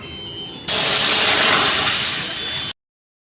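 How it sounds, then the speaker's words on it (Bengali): Hot water hits a hot wok and erupts into a loud, sudden hissing rush of steam that holds for about two seconds before cutting off abruptly. "তাই আগে গরম জলটা কড়াইতে দিয়ে দিই।"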